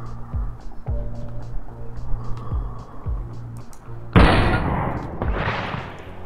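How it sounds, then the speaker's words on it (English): Marksman rifle shots fired with the mouse in a video game, a run of sharp, evenly spaced reports followed by a louder, heavier blast with a long noisy tail, with no talk. "And you fire using the left mouse button."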